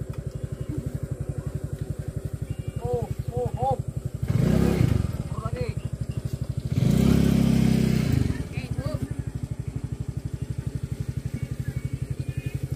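A motorcycle at a vegetable garden, its engine idling with a steady rapid throb, then revved in two loud bursts before dropping back to a running idle.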